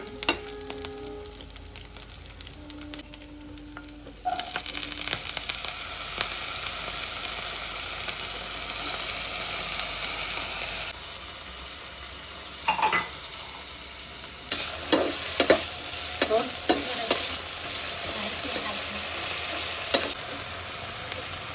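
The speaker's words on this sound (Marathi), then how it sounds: "तेलामध्ये मिरची टाकली, जराशी फ्राय केली" Green chillies sizzle and fry in hot oil for sabudana khichadi, a steady loud crackle with occasional stirring scrapes and sharper pops, getting noticeably louder after a few seconds, no voices.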